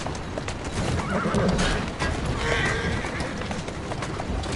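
A horse in the video game Assassin's Creed Syndicate whinnies loudly up close while hooves clop along beneath it, with ambient noise in the background.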